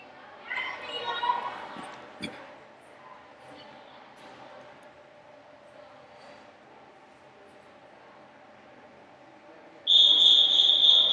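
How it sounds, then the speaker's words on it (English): Starter's whistle at a youth swim meet, a loud steady high-pitched blast arriving near the end after faint distant crowd and children's chatter in an echoing pool hall. "the starter has blown their whistle"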